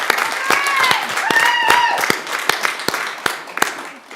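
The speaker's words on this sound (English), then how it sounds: "Give him a big round of applause." Applause at a Board of Aldermen regular meeting, scattered hand claps mixed with a cheering voice early on, thinning to a few separate claps toward the end.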